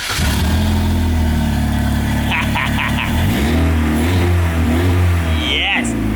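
A Goblin kit car's engine cranks, catches and runs at close range, revving up and down in several loud surges over a steady idle while a voice speaks over it.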